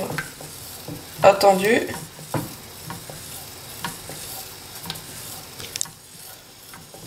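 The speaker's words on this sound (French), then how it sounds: "on touille en permanence jusqu'à ce que le chocolat soit bien fondu" Melting chocolate being stirred continuously in a pan, with soft scraping and swishing of the spoon against the bottom. A brief burst of voice comes near the start, then the quiet, steady stirring continues close by.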